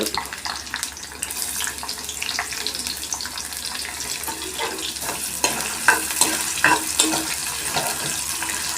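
Onions frying in a pan for an Andhra-style pumpkin pulusu, a steady hiss and crackle running throughout with scraping stir strokes that grow sharper toward the end, fairly close and with no voices.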